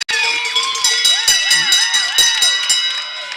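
A stadium crowd at a Switzerland versus Belgium match roars and cheers continuously right after a goal, a loud, sustained wall of voices with whistles and rising shouts throughout.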